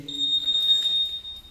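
A Honda PCX scooter's alarm gives a single sustained high-pitched electronic tone, fairly close and clear, lasting about a second.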